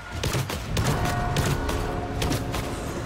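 Skaven ratling gunner's repeater spraying a rapid, sustained stream of fire in Vermintide 2, dense and continuous over a busy fantasy battle din with thuds and clanking mechanisms.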